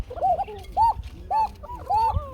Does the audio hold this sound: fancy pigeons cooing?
yes